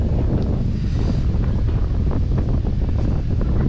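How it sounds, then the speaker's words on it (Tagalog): Strong wind buffets the microphone at a high lookout in Antipolo, Rizal, a loud, constant roaring rush with gusty bursts and no voices. "Taas ng hangin."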